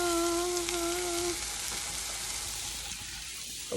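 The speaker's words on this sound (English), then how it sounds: "onions and peppers are still cooking, so they might need another minute or two" Onions and peppers frying in a pan give a steady, close sizzle that runs through the whole stretch with no talking, while a faint tonal hum fades out early on.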